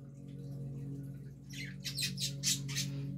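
Birds squawk in a quick burst of several harsh, loud calls near the microphone, rising over a steady low hum after a quieter stretch.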